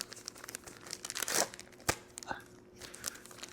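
Paper nutrient pack envelopes for homemade dog food torn open, a few crinkling rips and rustles close up, with a sharper tear in the middle and quieter crumpling after.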